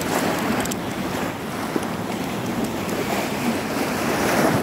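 Ocean surf rushes and churns continuously over rocks on the Mexican coast, a broad wash of water noise with wind buffeting the microphone, no voices.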